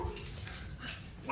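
A Chihuahua puppy from a litter whimpers faintly, soft thin whines over a quiet room with a low background rumble.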